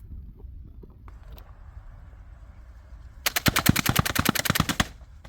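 A less-lethal launcher fires on full auto, a rapid, loud burst of evenly spaced shots lasting about a second and a half after a quiet stretch of outdoor background.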